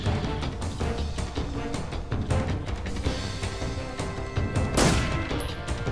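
Loud gunfire from Metal Gear Solid 3: Snake Eater, a dense series of close shots and booms, one sharper blast near the end, with no talk over it.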